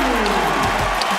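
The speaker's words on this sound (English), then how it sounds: "listen to this crowd." A basketball arena crowd roars during a St. John's versus Syracuse college game, a loud, dense, sustained cheer with no break.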